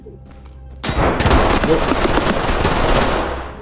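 Loud, rapid gunfire breaks out suddenly after a brief quiet stretch, a dense string of shots from a Combat Master pistol in a gunfighting video game. It keeps going for about three seconds, and a voice speaks briefly before the shooting starts.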